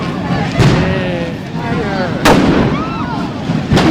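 Bangers exploding in a crowd on bonfire night, three loud sharp blasts at irregular intervals, with people talking and shouting throughout.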